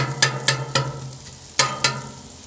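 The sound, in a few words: stirring zucchini and peppers frying on Blackstone griddle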